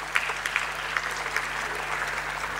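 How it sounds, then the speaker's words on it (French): Audience applause at a French ecology party plenary session in Dunkirk: a dense, steady patter of many hands clapping, with a few sharper claps near the start, over a low background hum. "on peut les applaudir"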